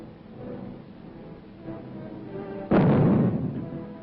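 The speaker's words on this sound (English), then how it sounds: "the first atomic bomb struck an enemy target" The atomic bomb explosion of 1945 comes as one sudden muffled boom from an old, band-limited recording after a quiet, low rumble, then rolls on as a dense roar.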